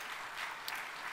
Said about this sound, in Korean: 저쪽에 애기들 여럿 있는데 박수 한번 해주세요.